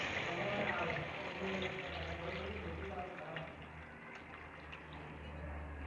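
Water, about one to one and a half glasses, is poured into mutton frying for a traditional mutton korma, a soft, steady hiss and sizzle that fades gradually as the pan settles.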